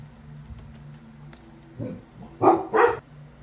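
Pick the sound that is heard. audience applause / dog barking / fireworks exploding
dog barking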